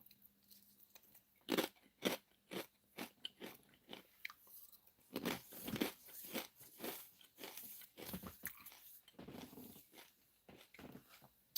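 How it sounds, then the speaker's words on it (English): Corn chips being munched close up, with a run of sharp, irregular crunches and bites, some louder bursts, and quiet gaps between the chews. "I am munching on some corn chips."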